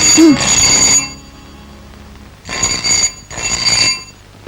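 A telephone rings loudly and close in repeated bright electronic bursts separated by short silent gaps.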